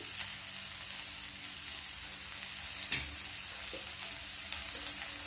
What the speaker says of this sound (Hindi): अब हम इसमें डालेंगे ये एक आलू हमारी उबली हुई थी।